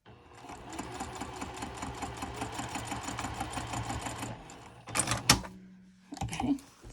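A sewing machine runs a rapid, even stitch along a wristlet clutch seam for about four seconds, then stops and gives short back-stitching bursts. Mechanical clicks and handling noises come between the bursts, close and clear.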